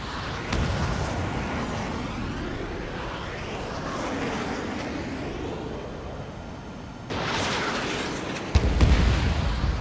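A missile launches and detonates in Ace Combat 7 aerial combat, a sustained roaring rush of jet and rocket noise with a sharp burst near the end, loud and close.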